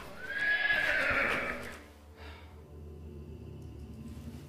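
Horses pulling a carriage on a ride let out a loud, close whinny, then the noise settles into a softer backdrop with faint hoof clip-clops and low rumble.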